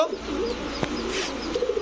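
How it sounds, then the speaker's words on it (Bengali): Big gola pigeons kept for sale coo softly in low, rolling calls from close by, with a sharp click partway through and a steady background hum. "2 জোড়া কবুতর গোল্লা কবুতর, বিগ সাইজের কবুতর"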